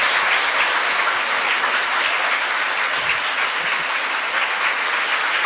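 An audience at a film screening and Q&A claps continuously, a dense, loud, even roar of many hands with no pauses.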